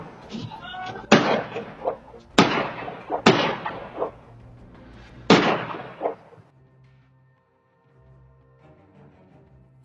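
Several sharp, loud bangs from a gun fire in irregular succession, picked up by a doorbell camera outside near a mail van, with a few quieter sounds after them and a near-silent stretch at the end.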